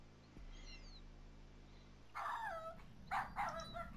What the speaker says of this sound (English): If I go back here and I hear a dog, I have to leave.